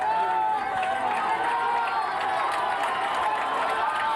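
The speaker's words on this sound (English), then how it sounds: "now this Naperville Central crowd trying to urge the defense on" Home crowd at a 1994 Naperville Central high school football game rallying its defense on third and long, a steady roar of cheering voices throughout, loud and continuous.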